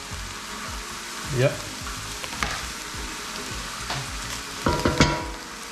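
Vegetables and garlic hit a hot pan for a Bolognese, giving a steady frying sizzle with stirring scrapes and a couple of louder bursts as more goes in, while a voice briefly speaks.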